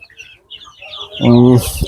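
On a poultry farm with desi, Egyptian Fayoumi and Tiger chickens, a chicken clucks loudly and close by, following a stretch of softer, scattered chirping and clucking.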